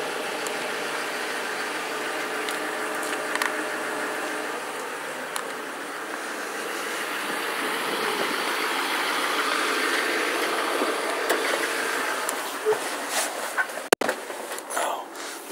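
A 2008 Chevrolet 2500HD 4x4 with a factory 6.6L Duramax diesel and stock exhaust idles after a cold start, a steady, even engine rumble running close and constant throughout with no talk.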